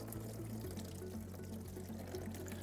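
Sanitizer drains out of an Electro Freeze CS-700 soft-serve machine in a steady, continuous pour of liquid. A low mechanical hum runs underneath, and the flow stays even throughout.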